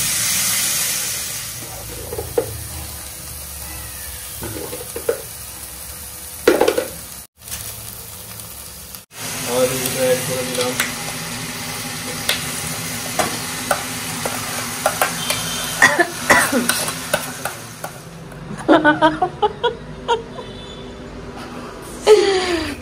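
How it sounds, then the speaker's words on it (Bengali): Potatoes sautéed and stirred in a pan with turmeric, sugar and salt for a Bengali devil chop, a steady close sizzle broken by repeated scraping stirs, a brief pause midway, then livelier clattering strokes near the end. "আলুটা খুব সুন্দর করে কষিয়ে নিয়েছে, একদম চিট চিট হয়েছে আলুটা"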